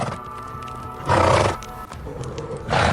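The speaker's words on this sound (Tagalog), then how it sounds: "At dito ay may nakaabang naman na sa kanila na mga kabayo." Horses stand waiting at the edge of a wide sugarcane field at night, whinnying loudly in two bursts, with hoof clip-clop and animal stirring in between.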